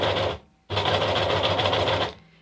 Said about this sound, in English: I'm going to run my medium fabric first through the machine.